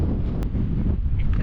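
Steady wind buffets the microphone on a cool, overcast mountain walk at Creag Meagaidh, a continuous low rumble throughout with a voice speaking over it.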